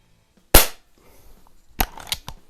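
A Snowpeak SP500 .177 break-barrel spring air rifle fires one sharp, loud crack near the start, followed by fainter clicks and handling knocks about a second later.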